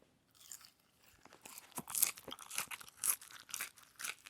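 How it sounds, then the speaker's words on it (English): Crisp crunching of someone biting into and chewing crispy hot-seasoned fries, a run of close, loud bursts of snapping and crackling after a quiet start, with no talking. "You can hear the crunch, man."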